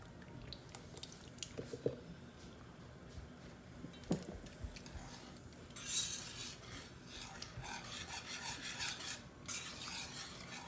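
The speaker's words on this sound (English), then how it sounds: "And continue stirring." Macaroni and cheese sauce stirred in a pot: soft, wet squishing and scraping with occasional utensil clinks against the pot, fairly quiet and close, no talking.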